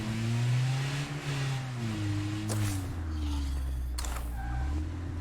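Engine of a car driven at night in a video game, steady mid-pitched drone with rising and falling revs throughout, two brief sharp clicks partway through, no talking.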